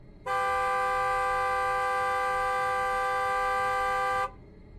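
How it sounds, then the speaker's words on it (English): A car horn blasts in one long, loud, unbroken tone for about four seconds, then cuts off sharply, leaving faint background noise and no voices. "Then suddenly, the car horn blasts."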